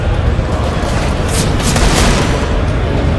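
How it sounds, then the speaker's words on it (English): A grenade detonates in a Counter-Strike: Global Offensive match, a dense, loud rumbling blast that fills the whole short stretch with sustained roaring noise. "That grenade will come in, do a slight bit of damage to Murky and LS."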